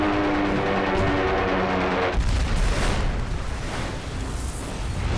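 A massive bomb blast tears through the aircraft carrier Enterprise after a Zero dives into the number one elevator, a loud, sudden roaring burst that erupts partway through and rumbles on, with no talk.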